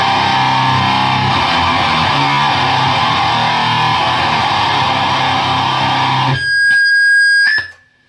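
Electric guitar played through a TC Electronic Eyemaster distortion pedal set at 12 o'clock, a dense, heavily saturated wall of sustained fuzz that cuts off abruptly, leaving a few ringing, buzzing string noises before silence.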